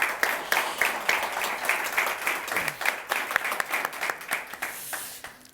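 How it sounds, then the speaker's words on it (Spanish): Steady applause from an audience, many hands clapping in a dense, even patter that carries on for several seconds with little change in strength. "un fuerte aplauso"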